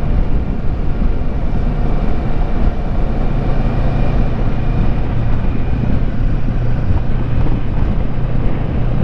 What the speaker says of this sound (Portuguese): Passeio de moto.